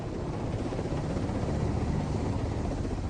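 A steady, broad roar of search and rescue helicopter rotor and engine noise over the open ocean, loud and continuous, mixed with rushing wind.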